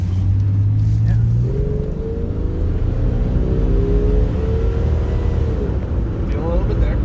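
A 2WD Jeep XJ Cherokee driving with a loud, steady engine drone whose pitch climbs slowly as the transmission slips and hangs on the second-to-third shift, heard from inside the cabin.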